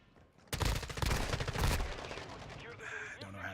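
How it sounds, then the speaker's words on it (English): Rapid gunfire from a fast-shooting gun in the video game Gunfire Reborn bursts out as a loud, dense stream of shots for about a second, then trails off under game sounds and tones. "Oh my god, what gun is this? This mug shoots fast."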